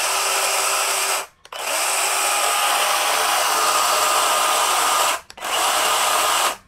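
DongCheng DCCS20101 cordless battery chainsaw running with its chain spinning: a loud, steady, smooth whine that cuts out briefly twice before starting again, with no voices.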